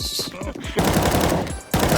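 Rapid bursts of automatic gunfire in a first-person shooter video game, loud and close, firing in two long sustained volleys with a short pause between, after a few seconds of excited talking.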